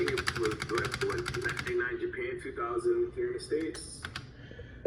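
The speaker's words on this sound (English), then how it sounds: "Tazar TK63 mechanical keyboard." Rapid clicky keystrokes on a Tazar TK63 mechanical keyboard patter in a fast, even rhythm, with a voice talking over them.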